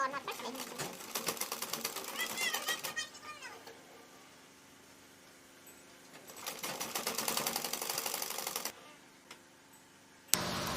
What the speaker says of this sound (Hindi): अब इसको ऐसे पकड़ के ऐसे अंदर की तरफ इसको सिलाई करेंगे।